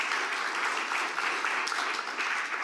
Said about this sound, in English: can I have a round of applause, please, for all the talks and panels?